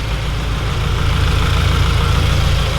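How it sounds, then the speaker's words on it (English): A car engine idles steadily and evenly on an FRS/86/BRZ just fitted with a Mishimoto oil cooler. The low hum is close, constant and fairly loud, with no voices. "Nothing's blown up. The car's running. My engine still works."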